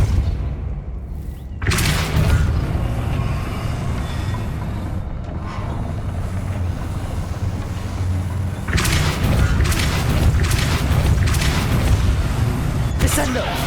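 The Depulso spell in Hogwarts Legacy lets out forceful, broad whooshing blasts, one early and another midway, each followed by a rumbling tail over a steady game background, with a voice speaking at points.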